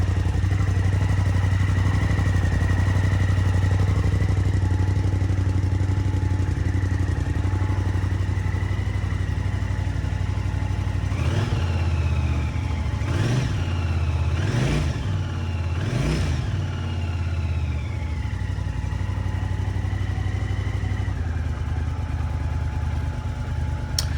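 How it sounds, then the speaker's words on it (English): A 1983 Honda CX650T Turbo motorcycle engine runs steadily, loud and close, with three sharp throttle blips rising and falling in the middle before settling back to a constant idle. "I then fit the tank to the bike and run it up for the first time on its own systems."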